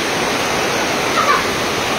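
Heavy rain pours onto a home's galvanized metal roof during the rainy season, a loud, steady, unbroken roar of drops filling the whole stretch with no talking.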